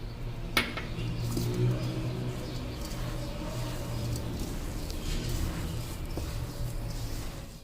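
Aloo tikki mixture and flour worked together in a bowl, with soft clinks and scrapes of a utensil against the dish over a low steady hum, one sharp knock early on, and no voices.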